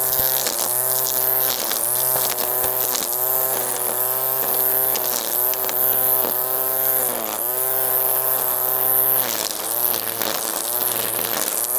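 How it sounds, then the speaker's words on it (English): Webb ECO 20V cordless battery line trimmer running continuously at close range, a loud steady high-pitched motor whine with slight dips in speed as it trims a lawn edge. "you'd end up taking the flowers out when you're sort of line trimming on the edge of your lawn"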